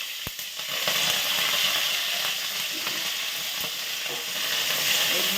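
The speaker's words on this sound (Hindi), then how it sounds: "तेल गरम हो गलानी। एबे कंचा लंका काटी पकेबा।" Green chillies and spices fry in hot oil, giving a loud, steady sizzle and crackle with a few sharp pops throughout.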